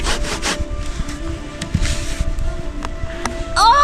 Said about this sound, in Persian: گیر میکنه اره، نمیدونم چرا سفت میشه